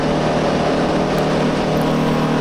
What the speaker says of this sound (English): So let's see how the engine note changes.